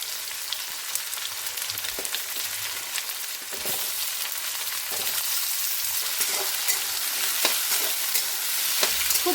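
Diced potatoes and onion fry in hot oil while a spatula stirs them, a steady close sizzle broken by repeated scraping strokes against the pan, with no talking, in a cabbage curry cooked with fish head.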